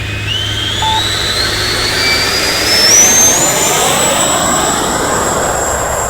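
An FMS F-86 Sabre RC model jet takes off from a runway, its ducted-fan engine a loud, continuous rushing roar with a high whine that climbs steadily in pitch as the plane gathers speed.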